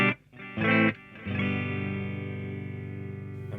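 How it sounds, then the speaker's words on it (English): Electric guitar chords played through the delay (echo) effect of a TC Electronic Nova System multi-effects unit, a few strummed hits followed by a sustained, repeating shimmer of echoes that slowly decays, fairly loud and alone. "Delay, it just means echo."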